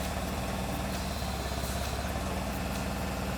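A forklift engine idles steadily and close by, a constant low rumble with even vibration and no talk over it.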